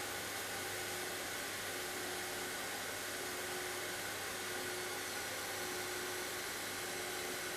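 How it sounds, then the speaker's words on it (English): A fine action sander with P500 gold discs runs steadily on a car body panel being prepared for paint, a continuous even hiss-like whir at moderate level with no voices. "machine sanded with P500 gold discs on a fine action sander"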